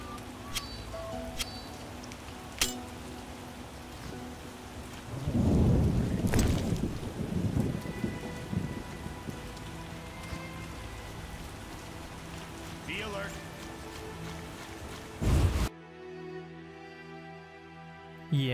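Heavy rain pours steadily in The Witcher video game, with a deep rumble of thunder swelling midway and lingering before the storm cuts off abruptly near the end.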